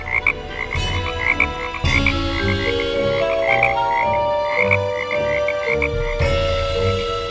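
Frogs croak in a pond in an animated Hindi children's story, a busy chorus of rapid repeated croaks layered over a gentle musical backing.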